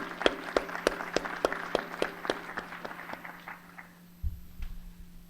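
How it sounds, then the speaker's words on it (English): Sharp, close hand claps ring out at a conference opening ceremony in Africa, sparse and rhythmic at first, then fading out, followed by a brief low rumble. "They deserve a round of applause."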